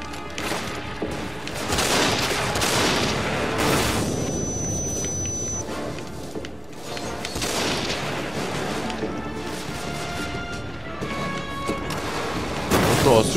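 Explosive booms and crashes of grenades being fired in the video game Deadfall Adventures, dense and loud through a busy mix of game noise and music, with some talk underneath.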